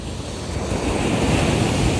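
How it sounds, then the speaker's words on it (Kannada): Ocean surf rolling onto a beach at Pondicherry, a loud, steady roar of breaking waves mixed with wind buffeting the microphone, no voices. "ಈ ಬೀಚಲ್ಲೇ ಜಾಸ್ತಿ ಅಲೆ ಬರುತ್ತೆ ನೋಡಿ"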